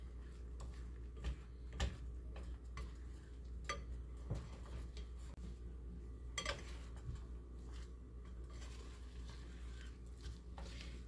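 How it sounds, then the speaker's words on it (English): Utensil scraping and clinking in a pan as food cooks over the heat, with intermittent taps and light knocks through a steady low hum, moderately close. "I'm going to want to start stirring it quicker and quicker"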